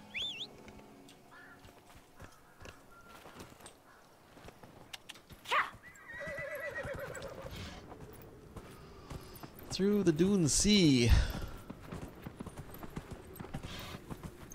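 Horse in the video game Dragon Age Inquisition whinnies loudly near the end, with a sharp call earlier and hoofbeats running through, heard under someone talking.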